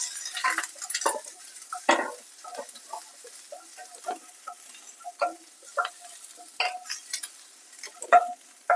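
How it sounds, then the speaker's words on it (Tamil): Ginger, garlic and green chillies being lightly sautéed in a pan, with soft sizzling and intermittent scraping and stirring clinks of a utensil against the pan, close and irregular. "இதுக்கு கொஞ்சோண்டு இஞ்சி பூண்டு அதையும் போட்டு லைட்டாக வதக்கிக்கலாம்"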